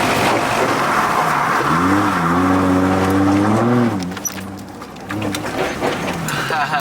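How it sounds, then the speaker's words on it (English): A Nissan 350Z drifts on a wet street in the rain, its engine revving up and down in a rising and falling whine that dips briefly, then wheel noise and splashes carry on, loud and close. "POV of drifting a car."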